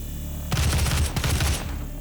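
Gunshots blasting locks in the video game DOOM 2016, a rapid volley of loud booming shots lasting about a second, set against a low steady game drone.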